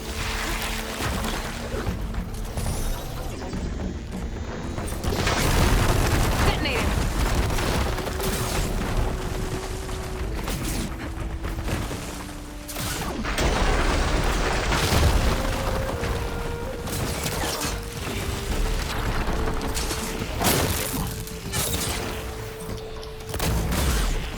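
Booming explosions and rumbling blasts from a machine being detonated in the video game Horizon Burning Shores, dense and continuous with repeated heavy hits over tonal game music.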